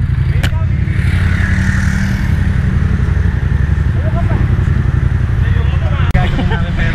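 A CFMOTO 400NK motorcycle revs loudly and continuously during a wheelie at a crowded bike night, with the engine roar close and a babble of spectators talking and shouting underneath.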